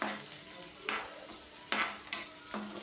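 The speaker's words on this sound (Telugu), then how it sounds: "ఇది బాగా వేగాక కొంచెం చూడండి, వేగుతున్నారు కదా." Onions and mixed vegetables, including okra, fry in a pan for a vegetable fry, giving a constant sizzle broken by several loud scraping stirs at irregular intervals.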